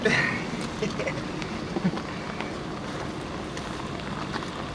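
Steady rain patters and hisses across a surface, a continuous wash of noise with a few brief knocks.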